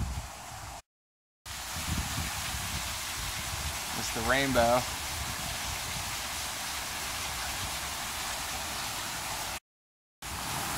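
A waterfall in Hoosier National Forest, the thirteenth on a hike, pours as a steady broad rushing roar, close and constant, with a short spoken remark partway through.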